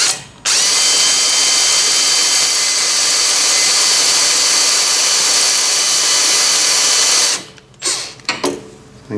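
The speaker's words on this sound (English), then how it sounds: "I bought one of these little right angle drive gadgets and I've got a super short 5mm drill bit there." A super-short 5mm drill bit on a right-angle drive attachment bores into cast aluminium, a steady high whine held for about seven seconds before the drill stops and gives a few brief restarts.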